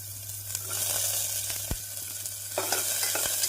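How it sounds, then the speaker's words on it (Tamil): Steady sizzling of onions frying in hot oil, with occasional stirring scrapes and a low hum in the background. "நாம் இதனுடன் வெங்காயத்தை சேர்த்து விடலாம்."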